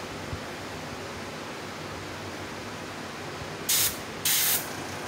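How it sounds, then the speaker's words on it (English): An airbrush sprays paint in two short hissing bursts near the end, close and bright above a steady background hiss, no voices. "I just put a couple of drops in my air gun, my airbrush,"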